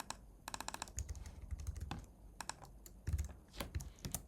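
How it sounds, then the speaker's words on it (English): Fingers typing on a computer keyboard in short irregular bursts of light clicks and taps, close and fairly quiet, alone with no talk. "And here I'm going to type,"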